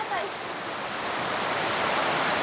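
River water flowing after overnight rain, a broad, steady rushing wash that grows slightly louder and fuller over a few seconds, heard alone without talking.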